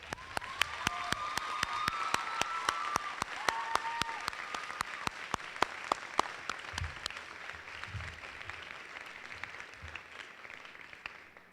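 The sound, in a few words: graduation audience applause for parents and guardians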